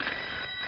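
A telephone rings briefly in an indoor comedy scene, a short steady electronic ringing tone with no talk over it.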